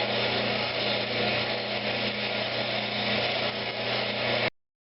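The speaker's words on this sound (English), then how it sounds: "Speed the lathe up a little. And just do some shear scraping." A wood lathe spins steadily while a shear-scraping tool works over a pecan vase, giving a continuous even whirring hum with a faint rough scrape. It runs alone for a few seconds, then cuts off abruptly.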